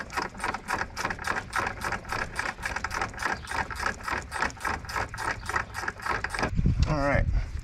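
A ratchet backs off a bracket nut near the upper radiator hose on a Pentastar 3.6 V6, producing a loud, close, rapid and even series of clicks that ends in a brief clatter.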